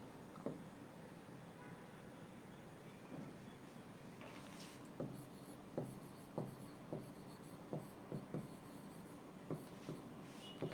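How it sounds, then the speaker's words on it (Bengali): A pen writing a shortcut in green ink during a physics lesson, scratching steadily with repeated short taps and strokes, faint and close against a low room hiss, with no talking. "সবুজ কালারে লিখে দিই।"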